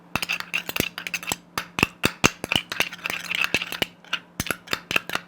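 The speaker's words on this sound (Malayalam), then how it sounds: "ഇനി ഇത് രണ്ടും കൂടി നന്നായിട്ട് മിക്സ് ചെയ്യുക." A spoon mixing a coffee-powder face pack in a small bowl: rapid, steady clinking and scraping strokes against the bowl, close and fairly loud, with a brief pause midway.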